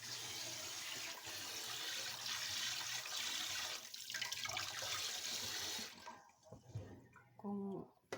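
Tap water runs steadily into a pot while rice is washed for cooking. The pour holds constant, then cuts off near the end, giving way to a few close splashes and clatters.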